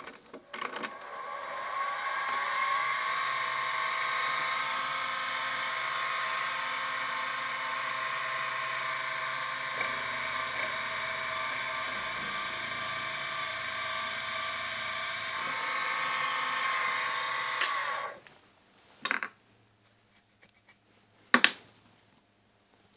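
A milling machine runs a centre drill into metal while making a Stuart half beam steam engine. A steady, loud mechanical whine and hum lasts about eighteen seconds, then stops, followed by a few isolated clunks and knocks.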